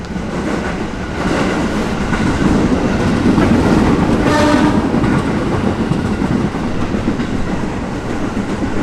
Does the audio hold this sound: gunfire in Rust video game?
no